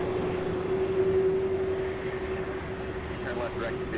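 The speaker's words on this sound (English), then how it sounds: "An American Airlines flight that just took off from 35 right there heading to Miami" An American Airlines Airbus A319 climbs out after takeoff from runway 35 right, a steady distant engine roar with a sustained tonal hum, overlaid by faint radio chatter.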